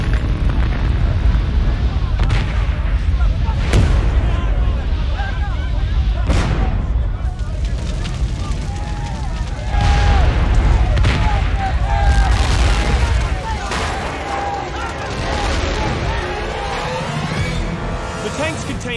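Tanks of pressurized liquid propane blow apart in a roaring fire, with repeated loud booms and bursts over a continuous heavy rumble, a narrator's voice running through.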